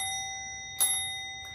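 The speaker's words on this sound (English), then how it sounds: "it's just a little bell to ring for sex" A small bell gives one clear ding that rings on with a sustained shimmering tone, followed by a faint second tap near the end, close and fairly quiet in a still room.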